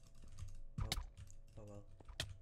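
Rapid jitter clicking on a computer mouse during a fast Minecraft Bedwars duel, sounding as bursts of quick, close clicks mixed with keyboard taps over steady background noise.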